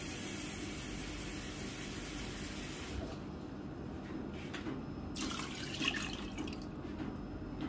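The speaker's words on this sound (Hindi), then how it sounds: "तो मैं इस पर पानी ले रही हूँ" About three cups of water pour into a pot holding a kilo of beef for shami kabab, a steady close splashing stream for three seconds that trails off into scattered drips and trickles.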